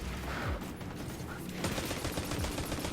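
Rocket launcher fire and explosive game gunfire in Destiny 2 during a boss fight, several sharp booming blasts in close succession over busy combat sound.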